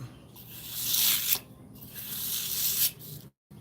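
A blade is drawn across abrasive grit paper in long, rhythmic rasping strokes, close and fairly quiet, with a brief silence near the end and no talk.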